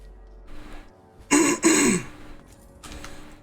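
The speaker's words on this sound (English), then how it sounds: "So you got to enjoy my cough." A person coughs twice in quick succession, a short harsh burst close to the microphone, followed by a fainter breathy exhale in an otherwise quiet room.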